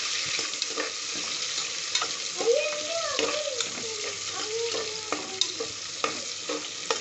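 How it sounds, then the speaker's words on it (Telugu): Onions fry in a pan for tomato rice, a continuous sizzle broken by scraping stirs and light clinks of a spoon against the pan, close and moderately loud. "ఇవి కొద్దిగా ఆనియన్స్ కొద్దిగా వేగనిద్దాం."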